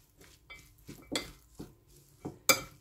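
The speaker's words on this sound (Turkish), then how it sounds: "Karıştırıyorum" A spoon clinks and scrapes around a bowl of green lentil salad dressed with lemon, pomegranate molasses and olive oil: six or seven separate knocks, the last one the sharpest, with quiet pauses between.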